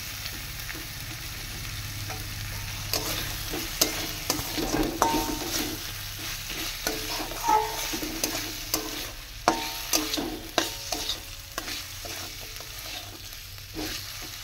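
Potatoes go into spices frying in a pan for a village-style snail curry, with a soft ongoing sizzle and repeated scraping, knocking stirring strokes that come in uneven bursts.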